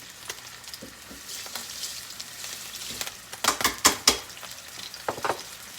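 Meat sizzles and fries in a pan with steady crackle, broken by sharp clinks and scrapes of a utensil against the pan.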